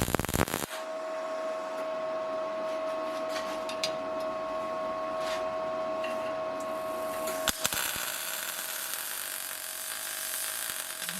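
Steel stanchions for an engine test stand are tack welded, a sustained crackling, buzzing arc with a steady tone running for several seconds, followed by a brief clank and hiss of the workshop, no talking.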